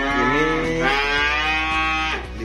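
A nearly ten-month-old Limousin cross calf at a cattle trading yard in Kediri, East Java, lets out one long, loud, close moo that fills the moment before tapering off.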